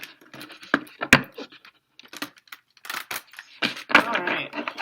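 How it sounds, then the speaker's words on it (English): Papery riffling and soft slaps of tarot cards being shuffled up close, in several quick bursts separated by brief pauses. "I'm just going to shuffle a couple more times"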